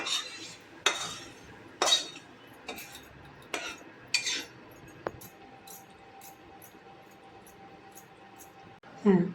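Cooked shrimp with water lily stems is tipped into a serving dish, with a series of sharp utensil clinks and scrapes at a steady pace, then a loud clatter at the end.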